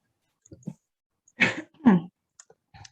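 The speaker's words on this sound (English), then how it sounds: "Sorry, I was coughing." A person coughs a couple of times, close and dry, with two short, strong bursts after faint throat noises, in an otherwise quiet indoor room.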